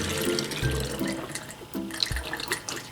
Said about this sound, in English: Now we need a funnel. Here we go. We put it right like that. And we're gonna pour a whole bunch of water in.